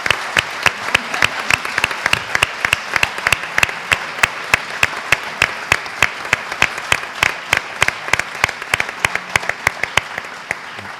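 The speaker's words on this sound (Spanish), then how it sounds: "me gustaría que diéramos un aplauso al embajador" An indoor audience at a Spanish-Irish cultural event in Valladolid gives an ambassador a steady round of applause, with dense, even clapping lasting throughout.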